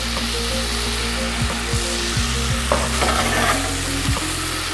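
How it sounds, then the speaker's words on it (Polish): Chickpeas frying with curry, cinnamon, chili and salt in a pan, a steady close sizzle broken by repeated scraping strokes of a spoon stirring, several in quick succession. "Pozwalamy, żeby wszystko się ładnie podsmażyło. Żeby przyprawy obtoczyły cieciorkę."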